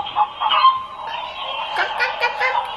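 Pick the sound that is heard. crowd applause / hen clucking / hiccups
hen clucking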